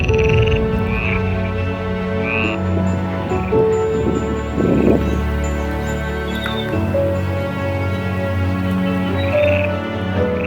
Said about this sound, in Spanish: cambiamos el bullicio de las fiestas de la localidad por el concierto del croar de las ranas